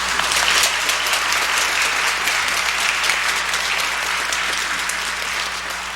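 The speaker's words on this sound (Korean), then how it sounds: "우리 찬양대와 신뢰악단에게 고마움을 담아서 박수를 전했으면 좋겠습니다." A Methodist church congregation in Bundang claps for the choir and orchestra during a Christmas morning service. The full-room applause is steady and dense, tapering slightly toward the end.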